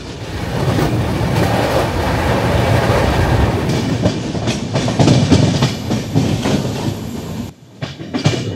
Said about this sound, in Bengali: ট্রেন চক্রধরপুরের দিকে যাচ্ছে।